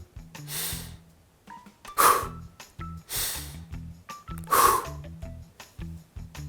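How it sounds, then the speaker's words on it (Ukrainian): A person does a diaphragm breathing exercise with sharp, fixed inhales and forceful exhales, giving four strong breath bursts about a second apart over soft tonal background music. "ми робимо фіксований вдих, затримку, видих"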